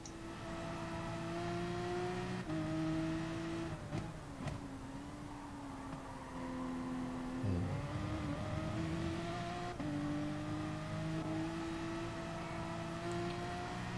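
A race car engine in the Gran Turismo racing game holds a steady drone across the whole stretch, pitch dipping briefly under braking around a corner before rising again as it accelerates, loud and continuous with no voices.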